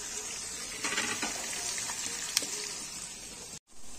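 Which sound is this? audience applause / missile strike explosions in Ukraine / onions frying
onions frying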